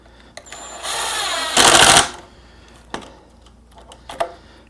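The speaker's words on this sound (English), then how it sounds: "So now we can go ahead and put the screws in from the bottom." Power drill driving pocket hole screws into a wooden shelf, two close whirring bursts, the second louder and ending abruptly, followed by a few light clicks and taps.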